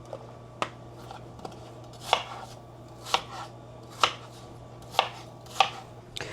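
Apples chopped into small chunks for apple pie, about eight evenly spaced knife thuds on a board, close and clear over a low steady hum, no talking.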